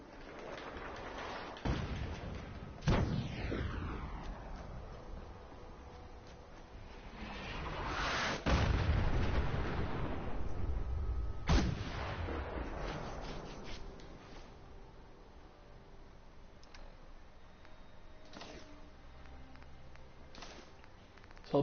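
A Fallout 4 video game explosion booms out amid a long stretch of rumbling, crackling game sound, with sharp transients and sweeping tones scattered through a loud, dense mix.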